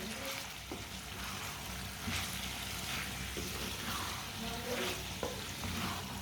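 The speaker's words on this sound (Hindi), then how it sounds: "इसे अच्छी तरह मिक्स कर लेंगे।" Turnip (shalgam) curry bubbles and sizzles in a pan while a spoon stirs it, with a steady frying hiss broken by a few soft scrapes and taps.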